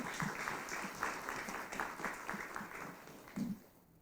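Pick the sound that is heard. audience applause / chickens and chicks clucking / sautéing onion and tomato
audience applause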